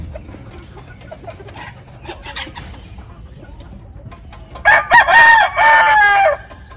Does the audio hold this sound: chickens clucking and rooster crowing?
yes